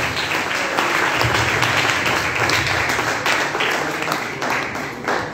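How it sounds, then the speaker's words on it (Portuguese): A church congregation bursts into sustained applause at the close of a sermon, a dense, loud wash of many hands clapping that holds steady throughout with faint voices beneath. "Que as palmas venham do Senhor"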